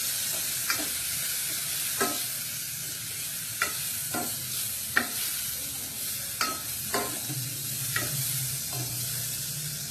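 Margarine sizzles in a hot pan under steady stirring, a constant hiss broken by regular sharp clinks and scrapes of a utensil against the pan, close and clear, with no talk.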